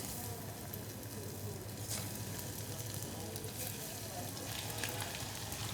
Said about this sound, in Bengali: এটাকে আমরা এখন ডিপ ফ্রাই করে নেব